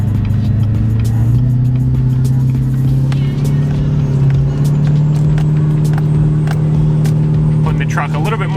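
A big-turbo Duramax diesel truck towing a load up a steep grade, its engine droning loud and steady as it climbs and pulls, while someone talks over it.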